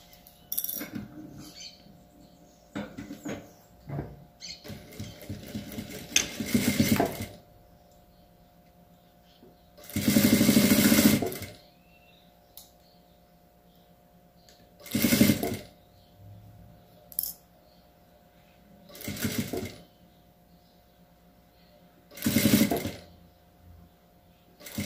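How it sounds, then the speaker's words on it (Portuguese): Domestic sewing machine stitching fabric for a child's bootie, running in several separate bursts of a second or two each, close and fairly loud, with quiet handling noise between runs. "Agora eu vou costurar aqui."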